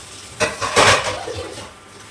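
Washed metal dishes and utensils are put away in a home kitchen, giving a couple of close clattering knocks and a short rattling scrape, with no talking.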